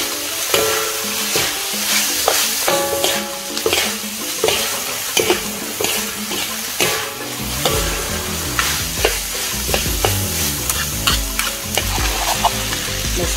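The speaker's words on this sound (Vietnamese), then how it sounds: "Mình đã trộn đều ra." Seasoned pork filling for steamed buns being mixed with a spoonful of pepper: steady, continuous wet stirring and scraping with frequent small clicks, close and fairly loud, no voices.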